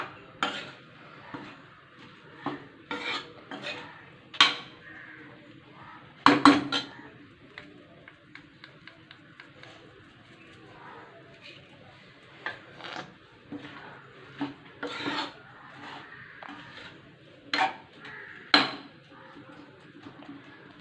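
Mango pickle with asafoetida is mixed in a pot, a spoon clinking and scraping against the metal in scattered, irregular knocks over a quiet room.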